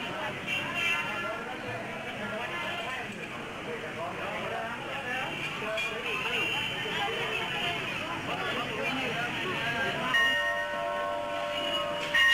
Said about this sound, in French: la cloche ne s'arrête pas de tinter pour capter l'attention de la déesse